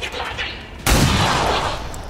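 Gunfire in the XCOM 2 video game, a sudden loud burst that hits after quieter game ambience and rings on as a sustained roar of shots and impact noise.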